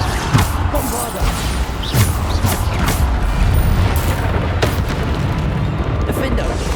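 Bombarda spell explosions in the video game Hogwarts Legacy, with several heavy booms and crashes going off one after another over a constant rumble of combat noise.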